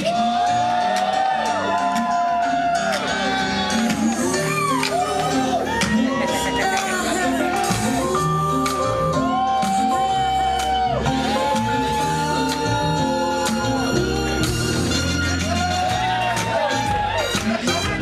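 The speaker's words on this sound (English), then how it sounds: "let's cheer them on to cut their cake" Wedding guests cheering and whooping loudly as the couple cuts the cake, a continuous dense wall of shouts and yells with music and voices mixed in.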